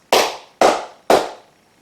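Three sharp flamenco hand claps, palmas for a fandango, evenly spaced and crisp, each snapping loudly then decaying quickly, played alone.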